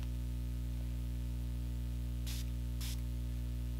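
Two quick hissing sprays of setting liquid onto a makeup brush, about half a second apart, cut through a steady electrical hum and background static.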